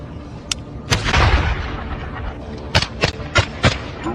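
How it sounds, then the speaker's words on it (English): Gunfire from a close firefight between Ukrainian and Russian forces: sharp single shots followed by a heavy booming blast, then a string of separate cracks spread over a few seconds. "More gunfire."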